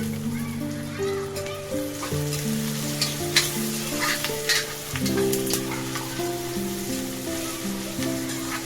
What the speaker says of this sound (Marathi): कांदा आपण चांगला भाजून घेऊया